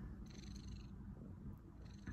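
A pet cat purrs close up, a soft steady rumbling purr running throughout with slight rhythmic swells.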